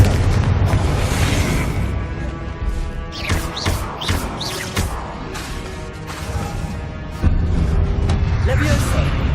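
Confringo blasting-spell explosions in Hogwarts Legacy go off as repeated booming bursts and crashes over a loud game score, while a voice speaks over the action.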